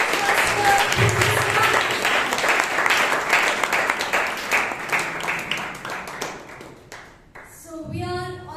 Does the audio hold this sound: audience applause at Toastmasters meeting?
yes